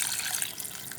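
Water runs from a tap and pours into a pot of tomatoes and beans, a steady broadband splashing flow that stays close and fairly even for the whole second.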